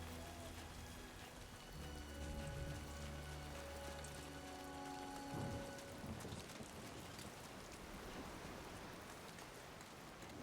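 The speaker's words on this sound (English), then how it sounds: "Rain's picking up. We better hurry up." Heavy rain pours steadily in the video game Death Stranding 2: On the Beach, with deep rumbling thunder rolling in midway, loud and enveloping, while soft musical tones fade in the background.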